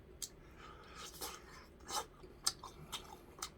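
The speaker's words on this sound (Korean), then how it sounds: "작은 가시 다 씹어 먹어요." Braised flounder eaten with its small fish bones gives quiet, close chewing with irregular crunchy bites and soft clicks spread across a few seconds, with no talking.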